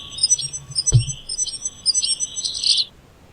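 A wren sings near a woodpile, a bright run of rapid high chirps and trills repeated through the moment, ending in a louder burst before fading out, with one short thump partway through.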